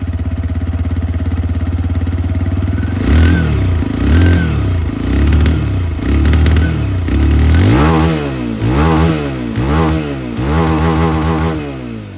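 A 2024 TVS Raider 125 motorcycle idles with a throbbing low rumble, then revs up repeatedly in sharp bursts, each vroom rising and falling, loud and close.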